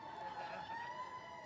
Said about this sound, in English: Today, blind and visually impaired listen to sirens as they go by.